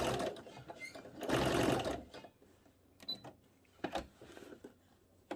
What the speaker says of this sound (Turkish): Şimdi ikinci kısmı dikiyorum.